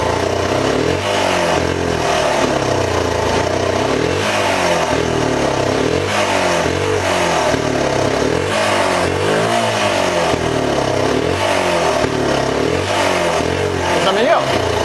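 A Suzuki DR 125 motorcycle with a stalling problem when started without the choke, its engine held at full throttle in a loud, sustained rev that rises and wavers slightly throughout.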